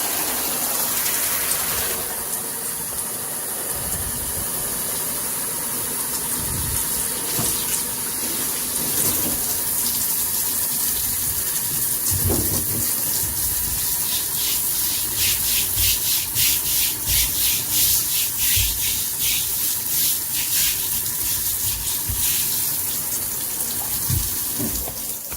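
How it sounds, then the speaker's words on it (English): A brush scrubs a turtle enclosure while water is sprayed over it, giving steady rubbing and gushing water that runs without pause and holds close and fairly loud the whole time. "When you scrub, you can scrub in all directions and the spray goes to the sides"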